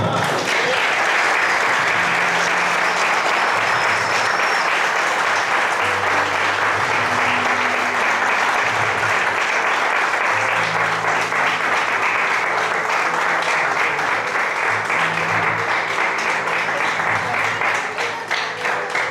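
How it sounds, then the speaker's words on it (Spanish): A church congregation applauds during a sermon in a Spanish-language service, a long, loud, sustained roar of many hands clapping with low murmuring beneath, tapering slightly near the end. "Dele un aplauso al Señor."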